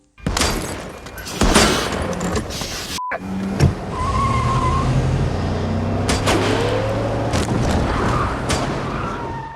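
Car engine and road noise from a film scene, with a sharp boom and impacts as a sniper opens fire on a car driving through a Christmas-themed pop-up fair, the rumble continuing steadily under the shots.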